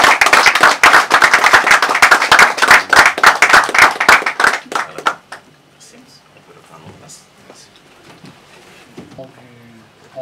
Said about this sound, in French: allez, tous nos applaudissements.